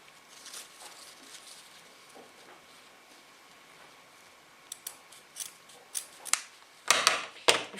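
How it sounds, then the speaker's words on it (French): Quiet snipping of scissors through looped bouclé knit fabric, soft at first, then several crisper, louder cuts in quick succession near the end. "Je prends mes ciseaux et je coupe à 2 mm de l'extrémité des deux côtés"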